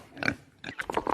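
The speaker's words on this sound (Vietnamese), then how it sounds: "Con lợn." A pig gives a few short, close grunting oinks in two quick bursts.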